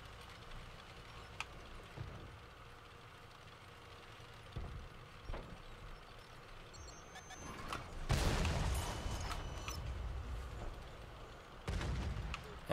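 Tank cannon fire in World of Tanks, a few sharp booms scattered through the stretch with a louder blast near the middle and another toward the end, over a low battlefield rumble. A voice talks at points.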